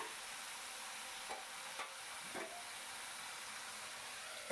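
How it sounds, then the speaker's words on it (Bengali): Potatoes fry in a pan with oil and salt under a lid, making a faint, even sizzle and hiss, with a few brief scraping stirs. "এদিকে আলুটা ভাজা হচ্ছে"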